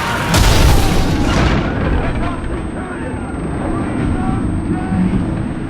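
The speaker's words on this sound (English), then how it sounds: "Incendiaries incoming!" Incendiary projectiles exploding in the game Ryse: Son of Rome, a loud broad boom at the start that settles into a sustained rumbling roar of fire and battle noise, with a voice shouting over it.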